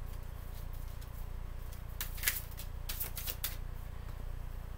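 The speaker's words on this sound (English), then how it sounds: "I feel like that was sloppy shuffling." Tarot cards are shuffled by hand in a quick flurry of riffling and slapping bursts midway through, over a low steady background hum.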